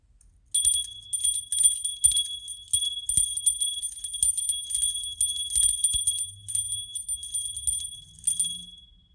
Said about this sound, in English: I'm just going to get the energies right with the bell and cut the deck